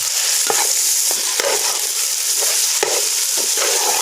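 Minced meat stir-frying over high heat in a hot pan: a steady loud sizzle broken by repeated scraping strokes of a spatula, with no voices.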